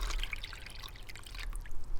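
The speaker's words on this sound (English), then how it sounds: "Cold water in." Cold water poured into a gelatin mix in a van kitchen, a brief soft trickle and dripping, quiet and close with no talk.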